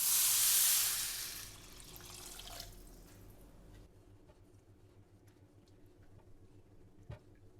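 Water pours into a pot of rice with a loud, gushing hiss at first that fades to a softer trickle and stops, leaving faint background sounds and a single clunk near the end.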